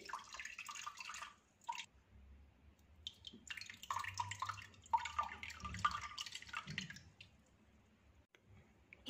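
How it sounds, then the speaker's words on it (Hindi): Water drained carefully off rice soaked for kheer, trickling and dripping in uneven spurts with short squishy splashes, close by and moderately quiet, no voices. "पानी को एहतियात से निथार लेंगे।"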